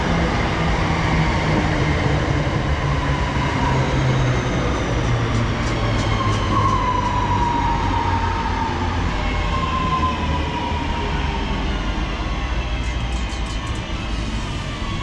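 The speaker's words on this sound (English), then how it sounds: "Number 323 turning up whilst we're waiting here as well" A Class 323 electric multiple unit, named Aston, pulls into a Birmingham Cross City line station bound for Four Oaks, with a steady rolling rumble, a rising motor whine and brief high brake squeals near and loud throughout.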